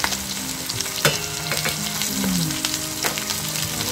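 Shallots frying and sizzling in a spiced masala for Kerala-style fried chicken feet, a steady loud crackle with a few stirring knocks and scrapes, no voices.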